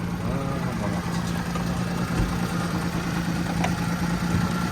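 A Daewoo Matiz engine idling nearby, a steady low rumble and hum running unbroken throughout, with outdoor market background noise around it.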